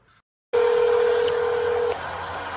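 A telephone dials, a long steady tone starting abruptly after near silence, loud and close, then cutting to quieter line noise, no talk.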